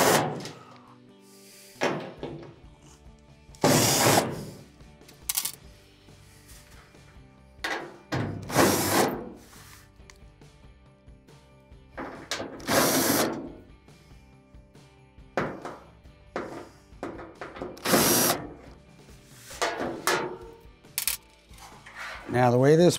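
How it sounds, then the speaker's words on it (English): Power drill backing screws out of an Amana dryer panel: a series of short, loud whirring bursts separated by pauses, with handling clatter and rattles between them and no speech. "just keep going along the edge, removing all your screws"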